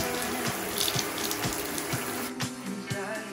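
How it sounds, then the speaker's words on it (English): Tap water runs steadily into a bathtub while bleached sweatshirts are rinsed out, a continuous close splashing flow with faint rhythmic sloshing as fabric is moved under the stream. "so I just rinsed them all out individually"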